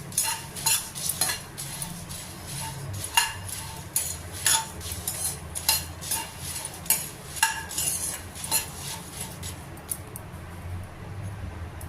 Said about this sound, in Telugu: లో ఫ్లేమ్లో పెట్టి ఫ్రై చేసుకోవాలి